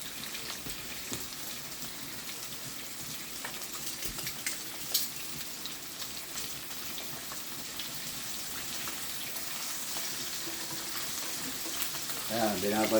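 Silver bass fish sizzles as it fries in a hot wok, a steady close crackle and spatter running throughout, with brief clinks from the pan and cooking tools near the end.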